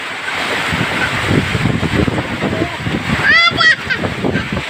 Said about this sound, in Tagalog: Oh, sobrang lakas pati ng hangin,